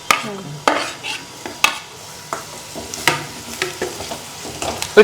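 Onions sizzle in a pan as carrot goes in and a spatula stirs them, giving repeated sharp scraping knocks over a continuous frying hiss, close and fairly loud.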